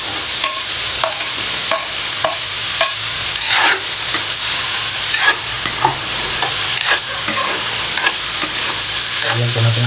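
Carrots sauté in a hot pan with steady frying and sizzling, broken by frequent clinks and scrapes of a utensil stirring, close and continuous throughout.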